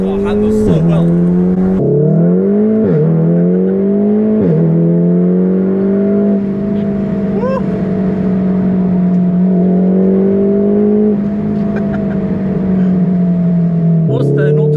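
A Stage 2 tuned VW Golf R engine revs hard and loud through repeated DSG downshifts, each marked by a sharp rise in pitch, then settles into a sustained drone, with people talking inside the car.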